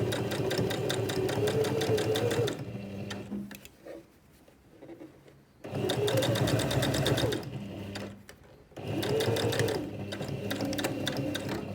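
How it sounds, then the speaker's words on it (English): A sewing machine runs in three long steady bursts as it stitches close to the edge of a zipped make-up pouch, with brief quiet pauses between runs, loud and close. "And I'm going to stitch very close to the edge"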